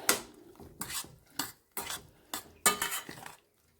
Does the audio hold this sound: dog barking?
no